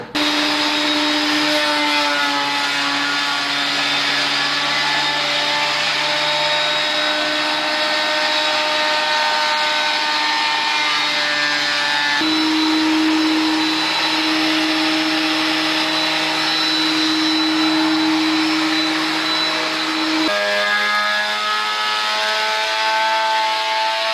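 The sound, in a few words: thickness planer running boards through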